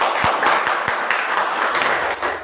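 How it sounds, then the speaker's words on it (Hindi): Audience clapping together at a business presentation, a dense, steady wash of applause that stays loud and even for a couple of seconds before easing slightly. "अच्छा से तो एक बार इसके लिए ताली बजाइए सिस्टम के लिए।"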